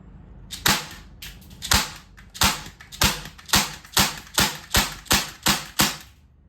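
A Heckler & Koch MP5 KPDW .177 caliber CO2 BB air rifle fires about eleven sharp, snappy shots in a steady, evenly spaced rhythm, close and loud, with no talking.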